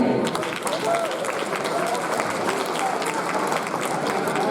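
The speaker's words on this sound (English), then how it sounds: "big round of applause for Kiran." A crowd claps steadily and energetically throughout, a dense wash of applause without pause.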